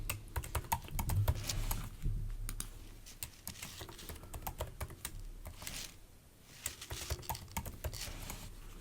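Password being typed on a computer keyboard, a quick run of light plastic key clicks, close and fairly quiet, with short pauses and no talking.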